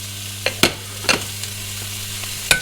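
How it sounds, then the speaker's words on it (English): Chicken chipolata sausages fry in a pan with a steady background sizzle, punctuated by a few sharp clanks and scrapes as they are stirred and moved about, close by with no talking. "we want to brown our sausages off nicely."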